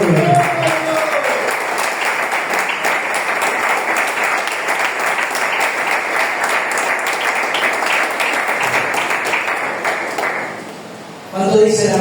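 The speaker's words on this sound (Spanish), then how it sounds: "Aplaudan que vive, Señor, aleluya" A church congregation applauds through a long, steady burst of dense clapping that fades out near the end, with voices faintly mixed in.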